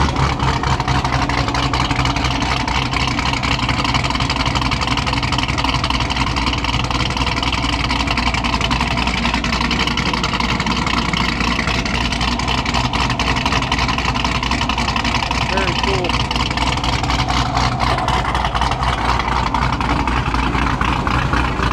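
A tuned Chevrolet Camaro SS 1LE runs loud and close, its engine rumbling steadily with a deep, continuous drone and no clear separate rev bursts.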